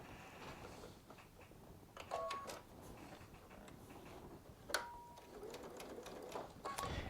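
A Baby Lock Solaris sewing machine piecing a quilt block seam at a short stitch length, faint mechanical whirring in bursts with soft ticks and clicks between runs.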